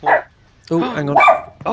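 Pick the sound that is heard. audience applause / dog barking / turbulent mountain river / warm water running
dog barking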